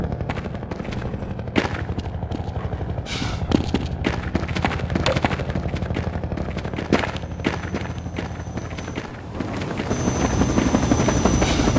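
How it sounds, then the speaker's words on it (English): A Combine attack helicopter from the video game Half-Life 2 drones loudly overhead with a thudding rotor while rapid bursts of heavy gunfire crackle throughout, the noise dipping briefly near the end before surging back. "here is where we fully introduce the main boss of the Canals chapter, the Combine attack helicopter"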